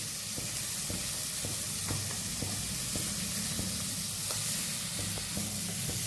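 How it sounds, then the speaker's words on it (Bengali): Onion sizzles steadily in a pan while being stirred for a pumpkin soup, a continuous frying hiss broken by soft scraping clicks of the utensil. "জাস্ট পেঁয়াজটা একটুখানি নেড়ে নিয়েছি"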